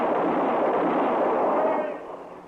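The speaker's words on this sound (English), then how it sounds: "Just keep firing, Chester." Gunfire from a western radio drama: a heavy, booming shot that rolls on and fades over about two seconds, loud and close.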